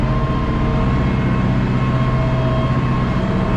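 Tractor engine running while the tractor reverses on a farm during manure work, a steady close diesel drone with no break or change over the few seconds.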